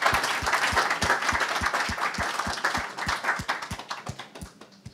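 An audience at a medical meeting gives a round of applause, steady crowd clapping with a few sharp, regular near claps standing out rhythmically above the rest, tapering off at the end.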